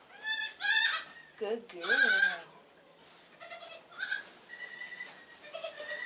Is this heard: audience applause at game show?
no